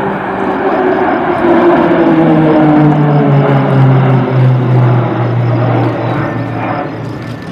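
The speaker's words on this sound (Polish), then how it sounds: "Samoloty ustawione są w dwie symetryczne trójki i wykonują pętlę." Orlik aerobatic team propeller aircraft flying a formation loop at a Polish military air show, a loud sustained droning engine roar whose pitch slowly falls as the planes pass overhead.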